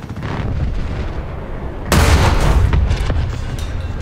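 A tank cannon fires a kinetic armor-piercing round in War Thunder, a single loud, heavy boom with a long rumbling tail rising out of the steady engine drone.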